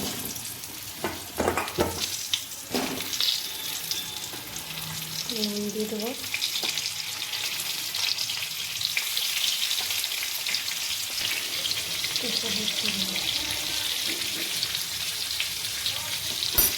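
Potatoes frying in oil left over from frying fish, a steady bright sizzle throughout with a few stirring knocks, while someone talks briefly at times over the crackle.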